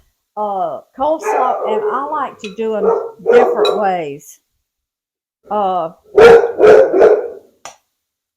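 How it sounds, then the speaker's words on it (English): A neighbor's dog barks out in the yard, a few muffled barks mixed in with a person talking in a kitchen, the barking partly masked by the speech. "that's just the neighbor's dog in the yard."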